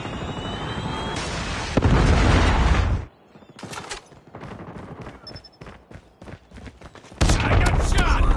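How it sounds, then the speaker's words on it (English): Predator missile strike in Call of Duty Mobile, a heavy explosive blast and roaring rumble mixed with rapid gunfire bursts, a quieter stretch of scattered shots, then another loud eruption of noise. "Friendly predator missile inbound."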